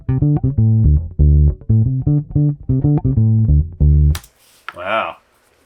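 Bass guitar played through a DI in a venue, a dry, close run of short punchy plucked notes in a bouncing rhythm for about four seconds, then a voice speaks briefly after it stops.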